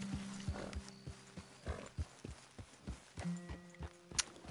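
A horse in Red Dead Redemption 2 clip-clops along in quiet, regular hoofbeats, with a brief snort or whinny near the end, fairly faint and without talk.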